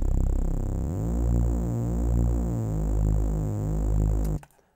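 A saw bass synth shaped by a Studio EQ and a bit crusher buzzes loud and gritty, with a hissy high edge and a slowly pulsing sweep, sounding alone for over four seconds before stopping sharply.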